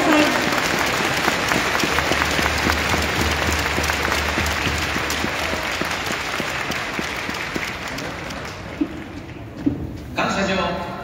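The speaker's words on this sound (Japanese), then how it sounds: "皆さん大きな拍手でお迎えください。" Sustained applause from a stadium crowd at a Avispa Fukuoka season-final ceremony, loud and steady, tapering toward the end with a short burst of voices.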